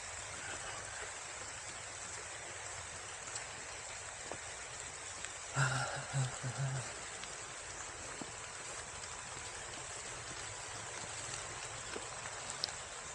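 Rain falling through sparse, mostly leafless trees on a woodland walk, a soft, steady hiss throughout with a brief rustling knock midway.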